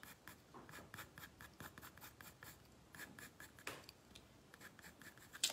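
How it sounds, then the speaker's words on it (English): Coloured pencil scratches across paper in quick, rhythmic strokes while drawing a raccoon, close and quiet, with no voices. "Keep rotating your pencil."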